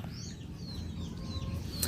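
Chickens clucking softly in the background of an outdoor yard, faint and steady, with a low rumble beneath and no clear talk.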